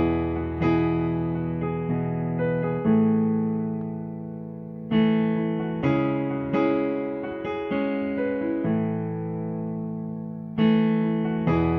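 Piano plays the worship song In Christ Alone with both hands together, sustained chords under a simple melody, struck in a steady rhythm and ringing with a bright, slightly processed tone.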